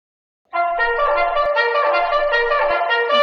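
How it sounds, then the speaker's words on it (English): A horn sounds at night, a sustained brassy tone starting after a brief silence and holding steady with a few slight pitch shifts, loud and close. "Who's playing a horn at this time of night?"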